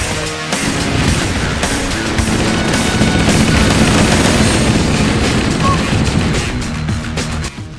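Rapid, dense automatic fire from the MA5B assault rifle in Halo: Combat Evolved, loud and sustained as a continuous rattling burst throughout.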